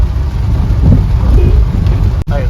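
Heavy monsoon rain in Junagadh, a dense, loud, continuous roar with a low rumbling undertone and no talking.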